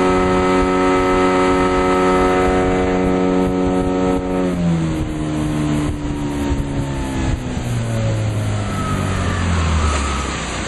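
Motorboat engine held at a steady drone, then rising in pitch and loudness as throttle is given, with the outboard's roar and water rushing continuously throughout.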